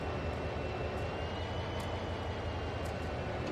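An SD40 diesel locomotive engine cranking and running in Train Sim World 3 on the Cajon Pass, a steady, dense, loud rumble that holds without a break throughout.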